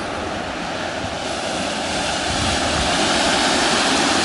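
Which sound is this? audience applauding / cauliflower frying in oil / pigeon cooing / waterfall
waterfall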